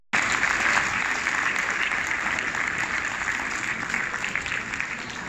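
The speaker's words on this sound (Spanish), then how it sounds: "Y si vas a dar un aplauso, dátelo a ti, por tu paciencia, por estar vivo" Conference audience applause starts abruptly and holds as a thick, even wash of many hands clapping, loud and close, slowly easing toward the end.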